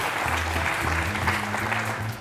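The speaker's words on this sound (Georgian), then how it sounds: "აპლოდისმენტები სან პაბლოს." An audience applauding team Saint Pablo after a quiz-game match, a steady wash of clapping from a room of people, even and sustained, with a low hum beneath it.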